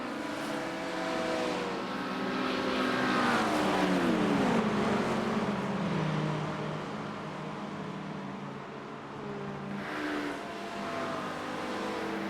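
Race cars at the 24 Hours of Daytona endurance race, with a steady engine roar rising and falling through gear changes, loud and continuous throughout.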